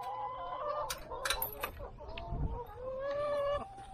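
Chickens clucking and calling while being fed soft shell crabs, several bird calls scattered over a steady outdoor background, with one louder rising call near the end.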